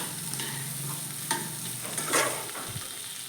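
Prawns and pumpkin greens frying together in a pan, a soft steady sizzle with a few scraping stirs of a spatula, close and fairly quiet, with no voices.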